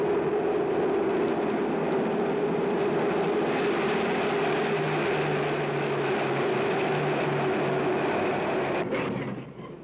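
A moving mail train rumbles steadily, a loud continuous rolling roar with a low hum that stays even before tapering at the end, no talk.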